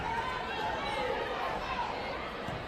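A big, loud crowd fills a gym at a sixth grade basketball game, a dense wash of chatter and cheering that stays steady throughout, with no single voice standing out.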